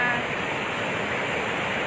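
Water pours out of the full Magat Dam in a powerful, continuous roar, a loud unbroken broadband rush without pauses or voices.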